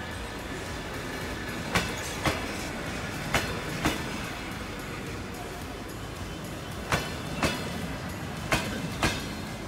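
A long freight train rolls steadily along the track with a constant rumble, and wheels clack over rail joints in regular paired beats.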